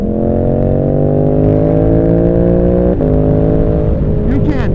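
A Yamaha R7 motorcycle with a Dano quickshifter revs hard and close, its engine pitch climbing through gears with a quick shift break midway and another near the end.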